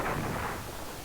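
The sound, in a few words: explosion in the SNES video game Star Fox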